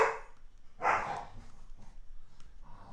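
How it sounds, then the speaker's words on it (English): A dog in a family home barks a couple of times from somewhere in the house, two fairly sharp, muffled barks followed by quieter background noise, with no speech over them. "Sounds like the dog is not liking the family right now."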